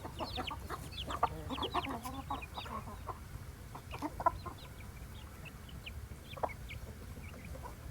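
Hens clucking in short, irregular bursts in a village, several birds chattering at once over a steady outdoor background, with no voices.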